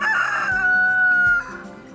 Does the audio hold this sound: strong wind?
no